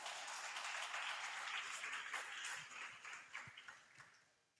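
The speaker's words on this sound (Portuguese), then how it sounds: "Aplauda o Senhor Jesus." A church congregation applauds the Lord, a dense wash of clapping that holds steady and then thins and fades out toward the end.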